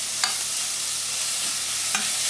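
Thinly sliced oyster mushrooms and onions with herbes de Provence tossed in a hot frying pan, a bright steady sizzle with two brief scraping accents from the toss.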